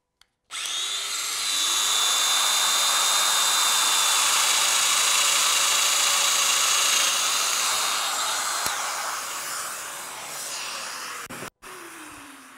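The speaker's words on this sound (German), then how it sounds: "von der Markierung nach hinten genau 10 mm erfolgt die Fräsung" A Festool Domino joiner spins up and runs with a loud, high whine while milling a mortise in wood. The tone holds steady for about ten seconds, then winds down with a brief click at the end.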